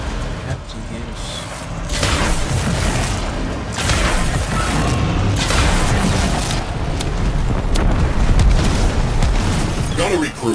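Rumbling booms and bursts as a ship is destroyed in Warframe, a dense continuous roar of explosions and crackling debris, loud and sustained throughout.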